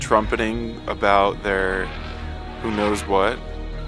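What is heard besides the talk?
None of the usual background noises is heard.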